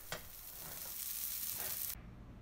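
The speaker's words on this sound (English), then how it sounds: "We're going to add the bottom part of the green onions to the pan and saute for about 3 minutes." Chopped bottom parts of green onions sauté in a pan for Filipino bistek, giving a steady, fairly loud broadband sizzle that runs continuously for about two seconds before dropping away, with no voices.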